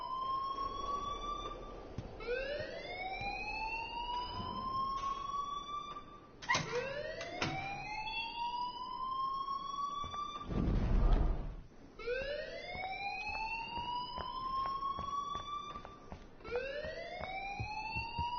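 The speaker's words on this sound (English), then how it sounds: "please turn off that alarm since that's your job" In the video game Life Is Strange, an alarm wails in repeated rising sweeps, each tone climbing then restarting, steady and loud over a low background rumble with a brief louder burst midway.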